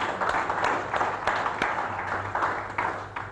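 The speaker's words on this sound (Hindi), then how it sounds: "जोरदार तालियां डॉक्टर साहब के लिए" A studio audience claps for a neurologist guest, a short burst of moderate applause with scattered sharp individual claps rising and falling over a low background hum.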